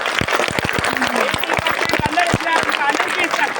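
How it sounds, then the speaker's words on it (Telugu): A group applauds with dense, steady clapping throughout, with voices talking over it. "clap clap clap clap"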